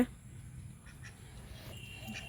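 Domestic ducks quack faintly in the distance over a low, steady background hum, with a few scattered calls across the couple of seconds.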